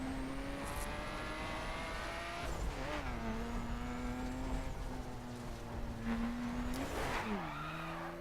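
An off-road car skids under handbrake in The Crew racing game, engine droning steadily with rising and falling pitch as tires squeal through the slide, loud and continuous without talk.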